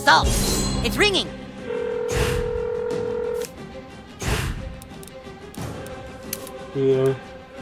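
A telephone rings in the South Park: The Stick of Truth video game, a bright, repeated electronic tone holding steady for a couple of seconds amid game music, clatter and speech-like voices.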